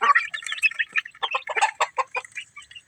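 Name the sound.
chicks and mother hen clucking in backyard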